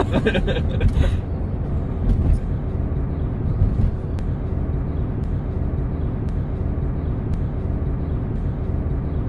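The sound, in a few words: airplane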